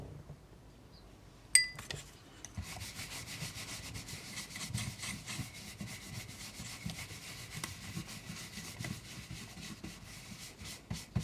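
Paper rubbed by hand over an inked woodblock for a Japanese print, a steady scratchy brushing that keeps on in quick uneven strokes after a sharp tap near the start, fairly close and alone.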